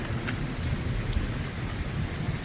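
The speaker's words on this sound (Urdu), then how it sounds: "شدید شدید شدید بارش" Extreme heavy rain pours down during a night-time cloudburst thunderstorm in the Pothwar region, a dense, steady roar of rain with low thunder rumbling beneath it, continuous and close, with no voices.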